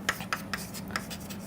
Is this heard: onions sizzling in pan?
no